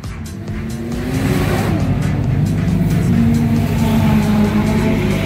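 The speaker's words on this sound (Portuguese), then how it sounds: "Se liga no motor." Drift car engine at a drift event in Japan, revving loud and close with a rising, sustained roar and tire noise, running steadily without any voices.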